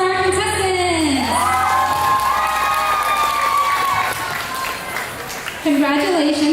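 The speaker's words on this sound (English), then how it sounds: "A round of applause for our contestants!" Audience at a Miss Vietnam Florida pageant clapping, cheering and whooping for the contestants, a loud crowd roar with high shouts over it and a voice talking through the noise.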